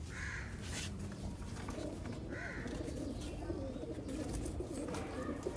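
Pigeons, Sialkoti and Shehal breeds kept as flying birds, coo and call in short repeated bursts over a steady background, with someone talking intermittently.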